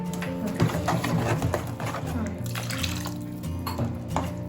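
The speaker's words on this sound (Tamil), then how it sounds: "கொஞ்சம் தண்ணி ஊற்றிக்கணும்." Water is poured into a pot of cooked dal for dal tadka, giving a splashing, gurgling run of liquid with a few sharper splashes, close and fairly loud, while someone talks over it.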